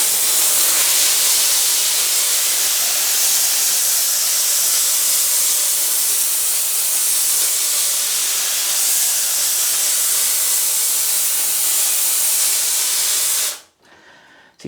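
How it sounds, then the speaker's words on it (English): A cheap handheld steamer with a long nozzle fitted sprays steam in one loud, continuous hiss lasting about thirteen seconds before cutting off abruptly. "hopefully using the steam is going to be a lot better"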